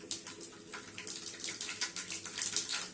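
Mustard seeds sizzling and popping in hot oil in a kadai, a steady crackling hiss with quick, irregular bursts, close and fairly loud.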